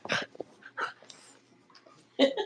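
A pet dog gives a few short yips and whimpery barks indoors during a casual live show, brief bursts separated by soft breathing and quiet gaps.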